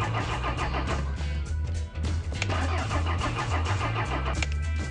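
Car engine in the Retro Garage mechanic game cranking repeatedly without starting, a loud rhythmic low churning of the starter motor with one short dip in the middle, and no voices over it.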